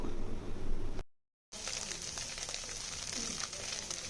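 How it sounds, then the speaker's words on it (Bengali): Small chanda fish fry in oil in a pan, a soft continuous sizzle with light crackling, broken by a brief silent gap partway through. "এক পাশ ভালো করে হতে দিয়ে তারপর হচ্ছে আরেক পাশটা উল্টে দেব এবং এটাকে একদম লালচে করে ভেজে নেব"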